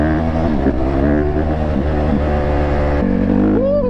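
ATV engine revving while off-roading on sandy ground in Florida, a loud close continuous motor drone with rising and falling revs throughout.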